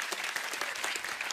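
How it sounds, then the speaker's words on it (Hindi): A studio audience on a comedy talk show claps loudly, a dense, continuous burst of applause lasting just over a second. "फरहान और प्रियंका के लिए जोरदार तालियां।"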